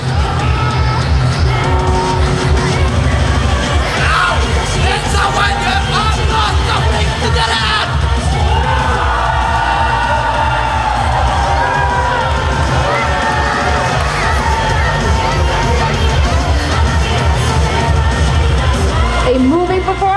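A crowd at an anime cosplay walk cheers, yells and whoops loudly and nonstop for twenty seconds. Excited shouting swells and stays dense throughout.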